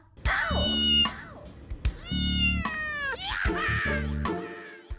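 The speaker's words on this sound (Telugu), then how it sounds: "చూడు రమ్మ ఎంత ముద్దుగున్నది నీలికండ్ల నల్లపిల్లి" A black cat with blue eyes meows repeatedly, about five close, loud, drawn-out cries in quick succession, over a low background hum.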